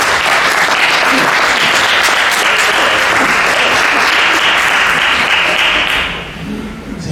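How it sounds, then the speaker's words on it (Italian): Loud, sustained applause from a large audience at an Italian book presentation, honoring Carlo Goldoni, steady throughout and easing off just before the end. "e quindi facciamo un bel applauso a Carlo Goldoni."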